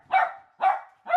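Dogs let out in the morning bark three times in quick succession, close and clear, with short gaps between barks.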